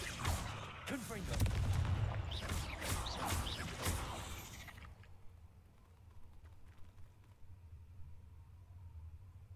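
A Confringo blasting spell is cast in Hogwarts Legacy, with loud, booming fiery bursts crowding the first half before it falls away to quiet cave ambience.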